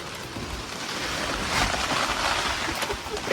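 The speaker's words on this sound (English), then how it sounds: "It's pouring." Heavy rain pours outdoors at a heat pump installation site, a dense steady hiss that swells slightly partway through and continues without a break.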